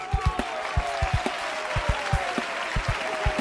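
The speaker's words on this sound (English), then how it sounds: "How about you get a round of applause?" A small group gives a round of applause, uneven individual claps ringing out close by in an irregular rhythm over a steady background hum, with no talk over it.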